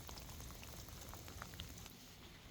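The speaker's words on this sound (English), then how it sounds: "It's been raining pretty hard for a few hours." Heavy rain pours outdoors during an hours-long storm over a garden, making a continuous soft hiss. Scattered drops patter throughout at a low, even level, with no voices.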